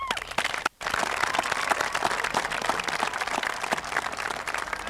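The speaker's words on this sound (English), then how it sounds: "For that, you deserve a round of applause." A graduation audience breaks into sustained applause, dense clapping from many hands filling the room at a moderate level, with a brief pause near the start before continuing steadily.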